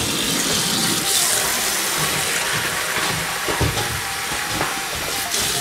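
Water gushes steadily from a tap or pour into a bowl for thirsty dogs, a continuous splashing rush with faint lapping and movement mixed in.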